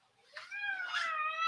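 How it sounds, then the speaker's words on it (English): A house cat gives a soft, drawn-out meow indoors, rising and then trailing off, quiet and close. "Yeah, that's my cat, Princey."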